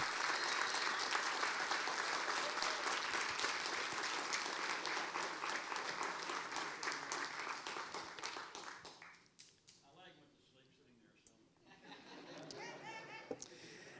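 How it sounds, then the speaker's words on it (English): Audience applause fills a hall at a school district Hall of Fame induction, steady dense clapping for about nine seconds, then fading to a lull before a few scattered claps and murmurs return. "This is the time in the program when you begin to applause"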